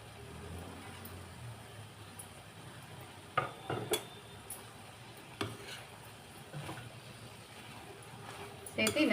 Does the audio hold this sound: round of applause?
no